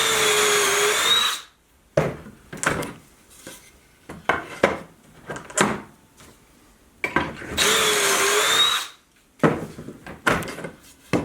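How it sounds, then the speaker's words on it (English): A power drill bores a pocket hole into wood held in a clamped pocket hole jig, with two long steady whirring runs separated by clattering knocks and handling of the workpiece and tools. "clamping it down, and drilling a hole."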